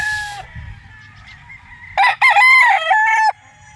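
Gamecocks crow on a gamefowl farm in Tanauan, Batangas: a short crow trails off at the start, then a loud, close, drawn-out crow follows after a quiet stretch with faint low clucking beneath.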